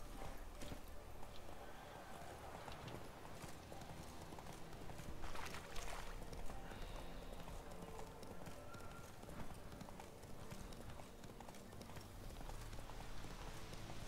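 Horse hooves in The Witcher 3 clip-clopping in a steady trotting rhythm at moderate distance, running throughout under a continuous hiss of rain and occasional game sounds, with someone talking over it.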